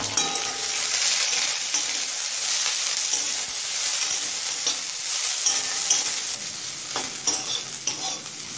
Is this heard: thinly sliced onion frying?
yes